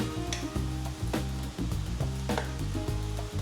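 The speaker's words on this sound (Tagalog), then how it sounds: "Malagay tayo ng garlic." Garlic sizzles steadily as it fries in a hot pan, a continuous close crackle with occasional stirring scrapes and no talking.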